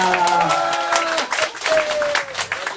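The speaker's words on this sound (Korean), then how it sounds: "박수 한 번 주시기 바라겠습니다." An audience at a year-end concert event claps under a continuing announcer's voice, the applause loud and close throughout while the speech carries on over it.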